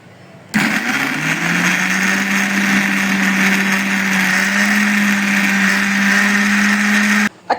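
A blender crushes peaches with sugar, white salt and black salt for juice, a loud steady motor whine starting abruptly and running for about seven seconds before cutting off.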